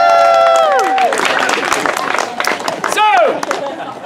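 A theater audience at a Romeo and Juliet show cheers and applauds in a loud, sustained roar, with high voices whooping and sliding in pitch near the start and again around the three-second mark.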